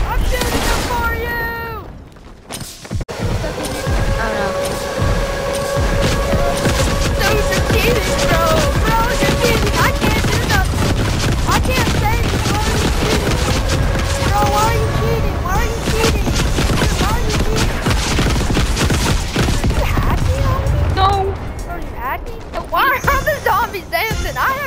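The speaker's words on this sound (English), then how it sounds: "Dude, I'm shooting them for you." Rapid gunfire blasts away at zombies in a shooter video game, bursts of shots and booms packed densely under excited players talking over each other through most of the stretch.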